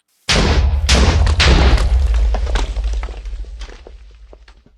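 TNT blows up in Minecraft with a sudden heavy boom, followed by crackling, crumbling debris that thins out and fades over several seconds, loud and close with no talking.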